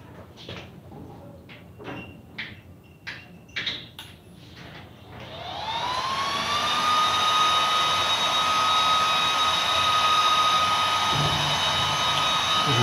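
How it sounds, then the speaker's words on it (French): A modified Antminer S15 bitcoin mining machine starts up after a few sharp clicks and knocks, its fans spinning up into a loud, steady, high-pitched whoosh and drone that holds evenly, with a faint thump near the end. "voici la machine en question qui n'est autre qu'une S15 modifiée"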